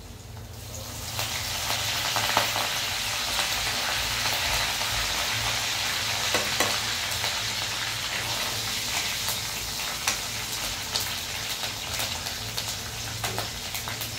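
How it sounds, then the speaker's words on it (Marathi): Curry leaves sizzle in hot oil in a pan, giving a steady loud hiss with small crackling pops throughout and no talk. "कढीपत्ता असं थोडंसं तोडून टाकायचं, म्हणजे ते ना चव लागते त्याने कढीपत्ताला।"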